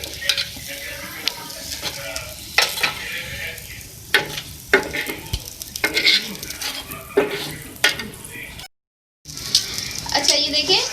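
A radish paratha cooking in ghee on a griddle gives a light sizzle, broken by spatula scrapes, clinks of utensils and a brief gap of silence near the end.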